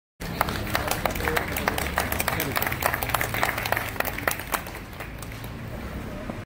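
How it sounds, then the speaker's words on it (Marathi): A crowd at a Maharashtra Day event claps in sustained applause, many hands beating irregularly and steadily, then thinning slightly toward the end. "जोरदार टाळ्या"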